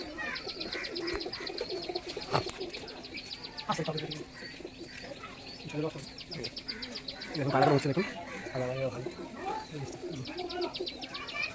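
Tournament pigeons, nine birds in a flock, give repeated coos and chirps from nearby, with a soft flutter of wings now and then while people talk over them.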